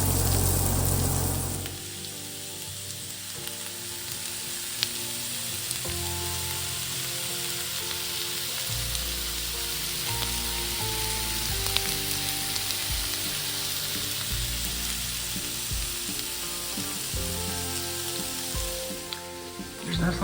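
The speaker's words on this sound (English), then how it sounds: "We're gonna have those fried in the skillet." Cut-up cooked potatoes frying in a skillet on a cabin stove, a steady close crackling sizzle with an occasional light tap of a utensil.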